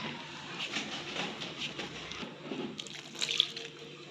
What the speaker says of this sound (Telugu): ఇప్పుడు వాటర్ పోసేసుకొని కలుపుకోవడమే